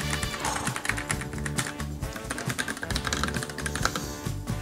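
Rapid, continuous typing on a Pulsar Mutant 80% mechanical keyboard, close-up clicky keystrokes in a dense, uneven rhythm, with no talking.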